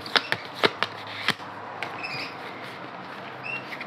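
Tarot cards are handled and shuffled close by: several crisp riffling snaps and flicks early on, then softer sliding and light taps of the cards with no talking.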